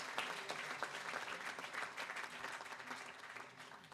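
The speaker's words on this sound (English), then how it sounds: "Give them a round of applause." Audience applause at the grand opening of a new shrine, a dense, steady patter of many hands clapping together that carries on through the whole stretch with little letup.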